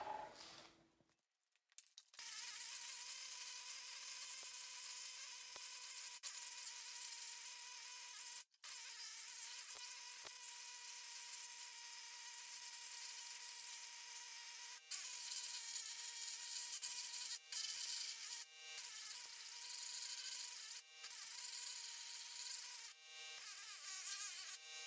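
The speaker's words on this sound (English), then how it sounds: "with just a few minutes of planishing, we got all of our shrinker marks out of the aluminum." A planishing hammer buzzes rapidly against aluminum sheet, smoothing out shrinker marks. The sustained, fast chatter runs almost without a break, pausing briefly a few times, and no one speaks.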